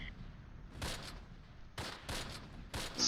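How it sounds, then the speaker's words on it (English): Machine gun fire in the Close Combat: Last Stand Arnhem game crackles faintly in several short, distant bursts spaced about a second apart, heard alone without voices. "I'm still hearing the machine gun fire."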